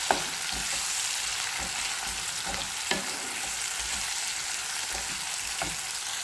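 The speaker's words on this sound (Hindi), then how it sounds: "अभी मैं इसको सारे प्याज को डाल के इसको ट्रांसलूसेंट कर लूँगी" Chopped onions sizzling and frying in a pan while being cooked down until translucent for a bitter gourd and onion curry, a steady dense hiss with occasional soft stirring clicks, close and alone without speech.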